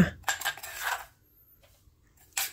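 Field catfish being cut into pieces in a Thai home kitchen, with a few close clattering knife-and-board knocks in a short burst, a quiet pause, then another clack at the end.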